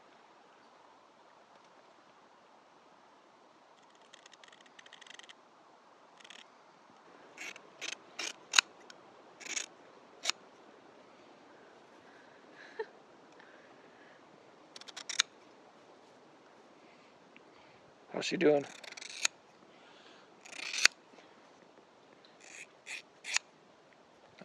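Scissors snip hair during a haircut at an off-grid cabin. The crisp clicks come in short, irregular bursts, close but quiet, over a soft background hiss. A voice briefly asks a question.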